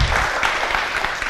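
An audience claps briefly at a talk, with a short burst of steady, moderately loud applause.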